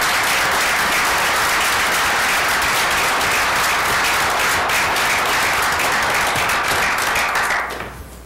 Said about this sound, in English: a very hearty congratulations and a round of applause for our state champions